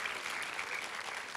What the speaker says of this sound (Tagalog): Come on, palakpakan mo si Lord.